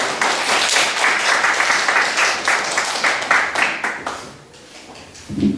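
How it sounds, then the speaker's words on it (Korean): A church congregation claps together after a prayer, a loud, dense burst of applause that holds steady for several seconds, then thins and fades before a low voice comes in at the end. "우리 함께 격려하며 박수하겠습니다"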